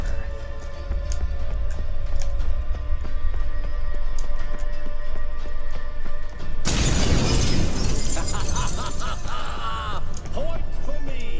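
A sheet of water shatters like a mirror in The Witcher 3, a sudden loud crash of breaking glass-like sound that cuts in after a steady ambient drone, ringing and tinkling as fragments fall.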